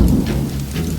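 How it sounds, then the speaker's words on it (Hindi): Heavy rain hisses and low thunder rumbles continuously, a dense, loud wash of storm noise with no voices. "ओ, बारिश।"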